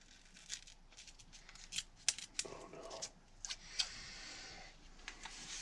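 Scissors struggle to cut thin tint-like dimming film for an RV camper window, making a sequence of sharp snips and crinkling crackles, close and fairly quiet.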